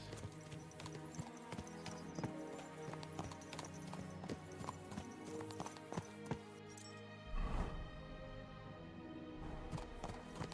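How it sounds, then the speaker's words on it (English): Horses gallop along a road in the medieval game Kingdom Come: Deliverance II, a dense, fast clip-clop of hooves that stays steady and close throughout, with a brief heavier thud partway through. "Let's really spur these horses on, eh?"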